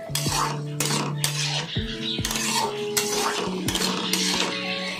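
Elephant foot yam and potato are stir-fried in a pan, a metal spatula scraping and knocking against it in repeated strokes over a soft sizzle.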